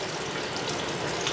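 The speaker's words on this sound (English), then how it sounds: "we're gonna let that fry a little minute" Soft, steady sizzling of flour-dredged food frying in a pan for Southern red beans and rice, a faint continuous crackle with no talking.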